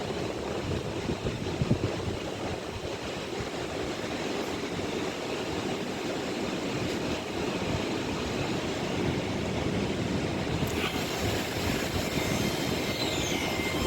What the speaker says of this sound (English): About to depart now, 3 minutes late, will be the 1456 of anti-West Coast service to London Euston.